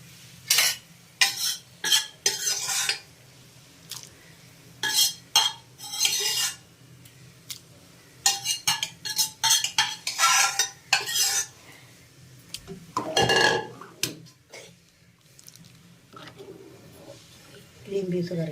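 A spoon stirs green pea curry in a cooking pot, giving repeated scraping and clinking strokes in irregular bursts with a soft simmer beneath and a voice talking.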